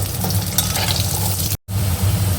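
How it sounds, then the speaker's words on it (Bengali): Cut potatoes fry in hot oil with cardamom and whole cumin, a loud close sizzle with stirring scrapes, briefly cut off by a short gap before resuming, and no talk. "আলুগুলো একটু ভাজা ভাজা করে নেব।"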